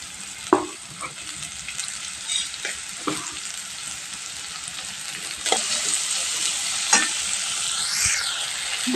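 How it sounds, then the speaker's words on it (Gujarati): Onion frying in oil in a pan, a continuous close sizzle with intermittent stirring clinks and scrapes over nine seconds, no talk. "હવે આ ડુંગળી ફ્રાય કરી લઈએ"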